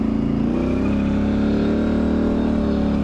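Polaris Sportsman 1000 XP High Lifter ATV with a custom build revs loudly while still cold, a steady throaty engine roar holding close and continuous throughout.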